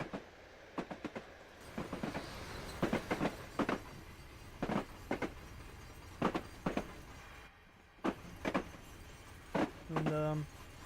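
A video-game train rolling past, with irregular clicks of wheels over rail joints, some louder and some softer, a short squeal near the end, and someone talking.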